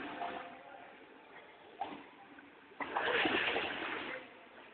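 Young girl swimming and splashing in water, soft splashes building into a longer, louder burst of sloshing, with a voice talking at times.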